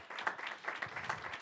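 A church congregation claps for a singer, a brief burst of scattered, fairly close hand claps with no talk.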